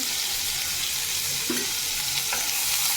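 Food cooked with ginger paste, ground cumin and garam masala sizzles loudly in a pan, a constant bright hiss with an occasional scrape of a stirring spoon.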